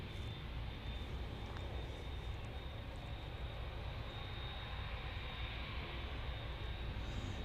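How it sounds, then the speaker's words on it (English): An Icelandair jet touching down at Manchester Airport, heard as a steady, distant broadband engine roar and rumble that holds evenly throughout. "Here's the Icelander just touching down from Reykjavik"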